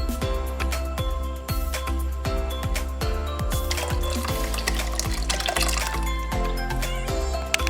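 Liquid milk powder pours into a pot of Kerala-style rice payasam, making a steady close splashing and trickling stream of liquid with no talking.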